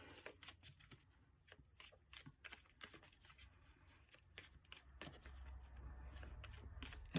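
Quick, crisp riffling bursts of cards being shuffled close by, repeating in short irregular flurries against a quiet background.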